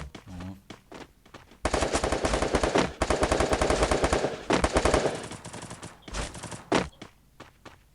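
Rapid bursts of automatic gunfire from the Free Fire video game, loud and close, coming in a long sustained volley followed by shorter bursts, with faint footsteps between them and no talk.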